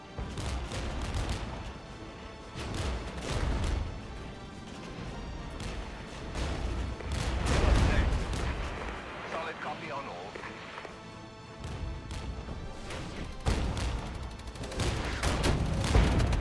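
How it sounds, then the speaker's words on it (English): Heavy mortar fire from the video game Regiments, with dense booms and crashing blasts stacking up in a continuous barrage, loud and close, while a voice talks over it. "Mortars are coming down nice and hard on the Schützen though"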